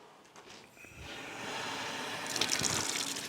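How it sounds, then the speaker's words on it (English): Water gushes from a tap in an icy homestead well house into a chicken water bucket, starting with faint splashes and building to a steady loud pour that fills the bucket. "Let's fill it up from the well house."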